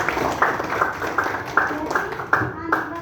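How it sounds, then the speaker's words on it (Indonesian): Students in a classroom clap in a loose, rhythmic burst, with a handful of distinct claps spaced roughly every third of a second, close and fairly loud, with voices mixed in. "tepuk tangan pada teman-teman"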